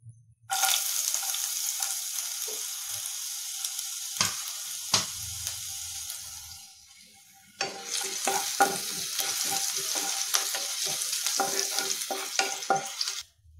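Crackling sizzle of thinly sliced ginger frying in hot oil, with scraping stirring sounds; the frying dies down briefly midway, then returns strongly.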